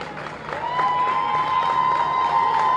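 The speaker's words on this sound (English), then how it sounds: "I think it's the Swampscott fans who are cheering" Swampscott fans at a girls basketball consolation game applaud and cheer in a gym, a steady wash of clapping and crowd noise under a sustained high whistle-like tone.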